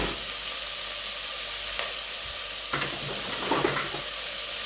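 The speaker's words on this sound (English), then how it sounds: "Then you just want to saute these for about 10 minutes until they're a nice golden colour." Chopped onions saute in hot oil, a constant close sizzle and hiss with occasional soft stirring knocks, no voices.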